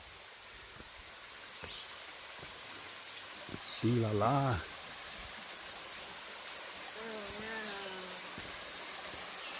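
Steady broadband rush of creek water flowing across a hiking trail at Honey Creek in Big South Fork, continuous and fairly close, with a man's brief exclamation and faint bird calls over it.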